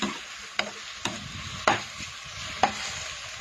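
Mushrooms fry in a pan with a steady sizzle, broken by four sharp stirring scrapes spaced roughly half a second apart, close and fairly quiet, with no talking.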